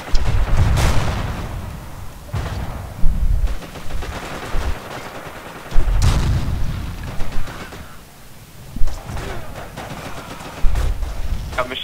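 Sustained machine-gun fire and explosive gunfire from a World War II battle in Forgotten Hope 2 at Pegasus Bridge, loud repeated bursts and booming impacts coming in waves across the whole stretch.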